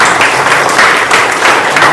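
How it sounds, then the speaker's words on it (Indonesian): Children in a classroom clap together for a couple of seconds, a steady, close, crowded patter of many small hands with no one speaking over it. "Kalau seru kita tepuk tangan sebentar untuk kita semua"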